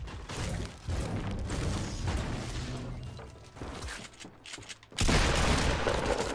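Shotgun blasts in the video game Fortnite, a double-barrel shotgun, fired in a rapid cluster of loud, close booms over busy game noise, ending in a dense burst of sound.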